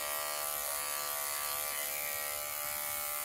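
Electric dog grooming clippers fitted with a 40 blade and a 1/8-inch comb buzz continuously at a steady, fairly quiet pitch, with no talking over the whirring motor.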